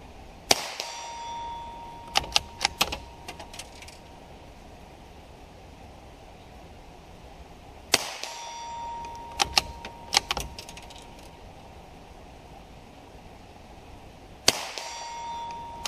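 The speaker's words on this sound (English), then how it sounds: "I'm shooting the far right piece of steel just below the first group." Rifle shots striking a steel target at a shooting range, fired through a Spike 2-7x32 scope: three sharp, distant cracks spaced several seconds apart, each followed by brief metallic ringing pings, with no talk.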